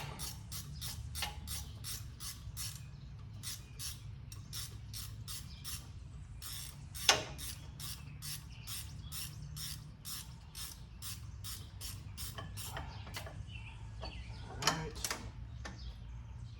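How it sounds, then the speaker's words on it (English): A ratchet clicks rapidly in even bursts while backing off a bolt on a Polaris Sportsman 800 ATV during rear bushing work, close and crisp, with a couple of sharper metallic knocks along the way. "Back this nut off, or this bolt rather."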